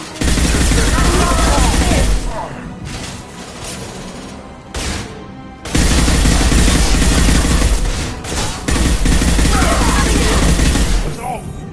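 Dense, loud gunfire and explosions from a Mass Effect Legendary Edition battle roar almost continuously, with brief dips between volleys and a voice briefly shouting over the combat.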